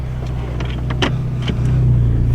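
A 10th gen Honda Accord engine holds a low, steady hum with a few light clicks, then the pitch climbs modestly as the revs rise near the end.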